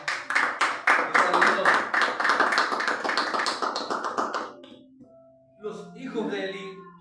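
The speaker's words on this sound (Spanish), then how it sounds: "Un fuerte aplauso al Señor" A church congregation claps in a fast, dense burst of applause mixed with voices, fading out after about five seconds before a short spoken phrase and a brief musical tone.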